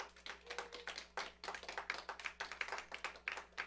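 A church congregation claps together after a sermon, a steady run of sharp, fairly quiet hand claps with an uneven rhythm.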